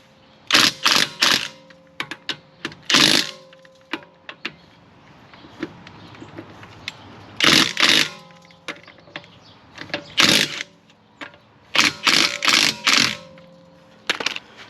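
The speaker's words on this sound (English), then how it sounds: "impact guns, electric battery operated" Battery-operated electric impact gun loosening lug nuts on an MK7 Golf GTI Alltrack during a front brake job, firing in sharp repeated ratcheting bursts of a second or so, loud and close, with short pauses between.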